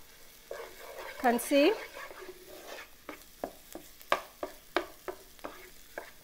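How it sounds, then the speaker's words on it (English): Spoon stirring tomato paste into frying onions for prawns in coconut sauce, with a run of sharp scraping clicks over a low sizzle and a brief spoken phrase near the start. "until the tomato paste it's mixed with the onions"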